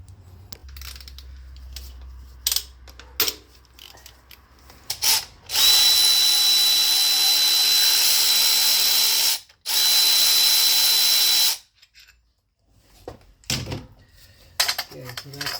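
A power tool, likely an impact driver or drill, removes 14mm and 12mm bracket bolts on a Nissan engine during a timing chain replacement, running in two long loud bursts close up, with brief talk and clanks before and after.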